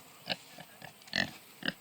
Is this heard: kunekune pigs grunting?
yes